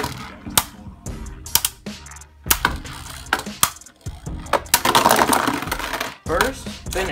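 Beyblade Burst spinning tops, Doomscizor D3 against Kinetic Satomb S3, launched into a plastic stadium and clashing: loud clacks and rattling collisions, scraping spins and a rising whirr, with a voice calling out between bursts.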